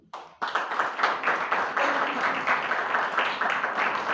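A congregation claps together at a Friday fasting prayer meeting, the clapping starting abruptly and carrying on steadily and fairly loud as a continuous round.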